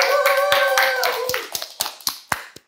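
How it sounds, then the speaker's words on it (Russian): A few sharp, separate hand claps from a small game-show audience, spaced unevenly and thinning out, following a brief spoken voice. "Хлопаем!"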